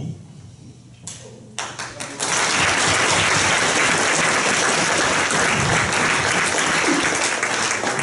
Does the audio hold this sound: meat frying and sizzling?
no